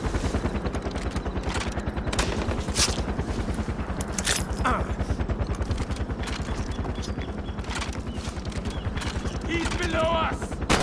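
Continuous rapid automatic gunfire in Far Cry 4, loud and dense throughout with steady rattling bursts and occasional heavier blasts, while voices are mixed in.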